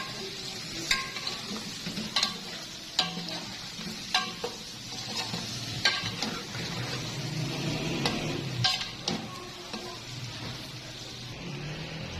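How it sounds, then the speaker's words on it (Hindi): Spices roasting in oil in a pan for chicken tikka biryani, stirred steadily: a continuous soft frying sizzle with periodic spoon scrapes and light taps against the pan. "अब मसालों की अच्छे से भुनाई कर लेंगे।"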